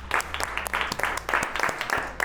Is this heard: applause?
yes